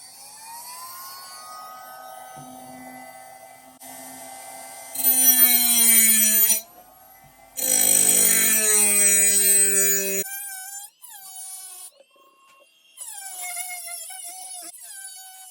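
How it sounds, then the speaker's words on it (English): Small fiberglass cutoff wheel on a rotary tool slicing through 1/8 inch metal; a close, high-pitched whine that rises into harsh screeching bursts as it bites, with pauses and spin-downs between cuts. "we're gonna see if this cutoff wheel can actually cut a piece of this 1/8 inch metal"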